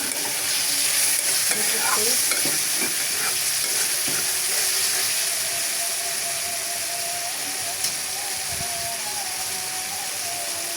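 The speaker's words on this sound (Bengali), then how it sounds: "এখন ভেন্ডিটা একটু নাড়ে করে" Okra (bhindi) hisses loudly in a hot pan while being stirred, a dense continuous sizzle with occasional scraping strokes and a soft click, close up with no voices.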